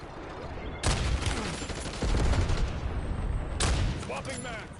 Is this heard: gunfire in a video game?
yes